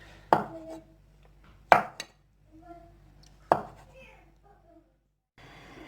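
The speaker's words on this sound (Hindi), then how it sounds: "ये मशरूम उठा के इसको काट लेना छोटे छोटे पीस में।" Mushrooms chopped into small pieces on a board, three sharp knife strikes spaced about a second or two apart, each with a short ringing tail, close and fairly clear in a quiet kitchen.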